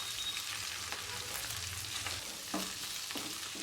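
Finely chopped fresh fenugreek leaves stirred and fried in a pan over a medium flame, a continuous close sizzle broken by a few scraping knocks of the spoon against the pan, with no voices.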